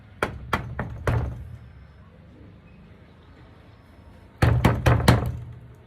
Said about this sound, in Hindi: कहीं भी दरवाजा खटखटाना, आ जाएगा वहीं पे